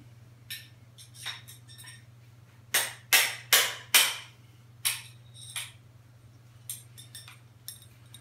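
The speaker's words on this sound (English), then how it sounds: "so that's after three hits of the hammer, that's gone through a bit." Hammer strikes driving an axle through a bearing on a Tune Mag 170 hub: a cluster of sharp metallic blows, three loud ones close together in the middle, with lighter taps before and after over a steady low hum.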